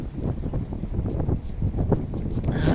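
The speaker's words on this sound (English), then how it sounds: "Oh, it's going to be too windy." Wind buffeting a microphone at Shelter Cove Marina on San Diego Bay, a steady low rumbling roar with gusty swells that grow stronger toward the end.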